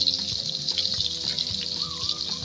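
Eggplant frying in a pan for a mashed eggplant dish, with a constant close hiss of sizzling oil, some stirring clinks and soft bubbling, loud and steady with no voices.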